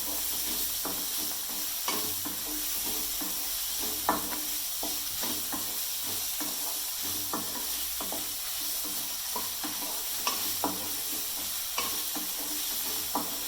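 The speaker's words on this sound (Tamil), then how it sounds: "இது நல்லா வதங்கணும்." Tomato chutney ingredients sauté in a pan, a low steady sizzle under regular spoon scrapes and stirring taps, close by and without talk.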